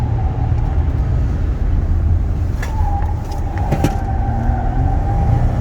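A Chevy Silverado pickup truck drives along a road, its engine and tire roar a steady, loud interior drone with a few faint squeaks and rattles in the cabin.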